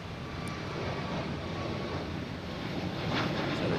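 A JetBlue airliner flies past at Boston Logan airport, a steady broad jet roar held at moderate loudness throughout, with no talk.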